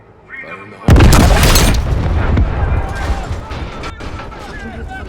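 A large explosion in Modern Warfare bursts loud and near with a sharp boom, then rolls into a long rumbling, crackling decay as a voice speaks underneath.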